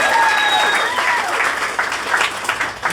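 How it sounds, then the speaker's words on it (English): Comedy club audience applauding a comedian's mother during a stand-up set, a dense, loud wash of clapping that holds steady for a few seconds with a faint tone running under the start. "Round of applause for my mom!"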